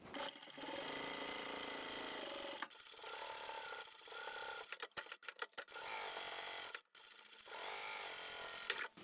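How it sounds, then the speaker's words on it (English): A sewing machine runs in long continuous bursts while stitching down both long edges of folded fabric tabs for a small rounded pouch, with brief pauses and handling noises between runs. "we'll take both of these to the machine and sew down both long edges"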